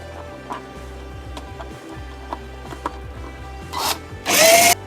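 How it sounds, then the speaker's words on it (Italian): A power drill whirs briefly in short bursts amid ticking and clicking, then revs loudly as it drives a screw into a Proxxon DS 230/E scroll saw setup, close and alone. "Trapano sempre a portata di mano."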